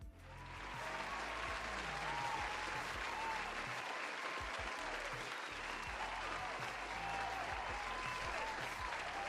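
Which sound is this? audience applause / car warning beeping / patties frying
audience applause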